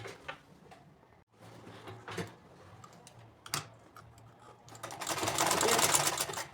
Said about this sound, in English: we will sew all through this